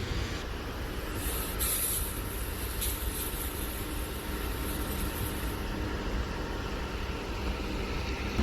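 A firefighting hose being charged with water gives a steady, loud rushing hiss of pressurised flow that runs unbroken throughout, with no talking.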